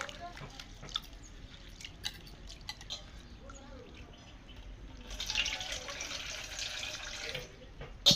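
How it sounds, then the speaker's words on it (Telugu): Toor dal washed by hand in water, with soft splashing and dripping that grow louder and fuller near the end, under faint background speech. "కందిపప్పు మంచిగా కడుక్కొని"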